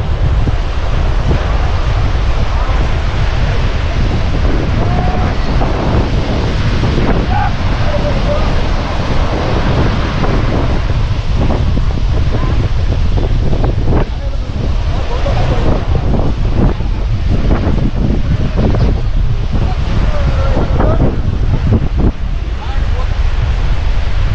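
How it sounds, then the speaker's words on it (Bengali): Strong, gusty wind roars across the Mousuni island shore, buffeting the microphone with loud, continuous rumbling, while surf wash stays faintly audible beneath the blustery noise. "আওয়াজ শুনে নিশ্চয়ই বুঝতে পারছেন দারুণ দুর্ধর্ষ হাওয়া"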